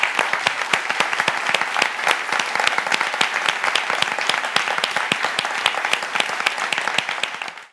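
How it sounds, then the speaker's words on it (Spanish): Loud, steady audience applause at a business conference session, dense overlapping claps with sharp individual hand slaps standing out, continuing evenly for several seconds before stopping abruptly. "darle un aplauso fuertísimo a ellos"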